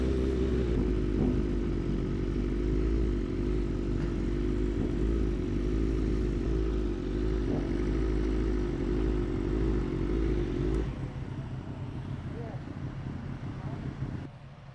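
Motorcycle riding near a crowded beach on a chilly day, its engine a steady, loud drone with wind rush throughout before easing off near the end, with a rider's voice faintly mixed in.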